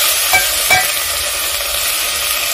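Tomatoes and onions are stirred in a hot cooking pot while preparing omena in coconut milk, giving a steady close sizzle broken by two brief spoon scrapes, with no talking.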